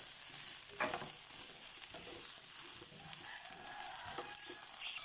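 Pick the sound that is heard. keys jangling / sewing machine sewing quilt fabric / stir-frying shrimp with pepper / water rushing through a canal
stir-frying shrimp with pepper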